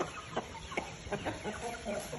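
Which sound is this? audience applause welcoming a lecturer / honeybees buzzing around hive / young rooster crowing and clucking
young rooster crowing and clucking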